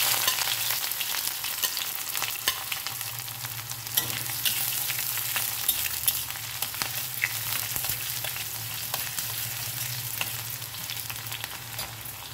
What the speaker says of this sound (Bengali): বড়াটা ভেজে নেওয়ার পর যে তেলটা ছিল সেই তেলটার মধ্যেই আমি করব।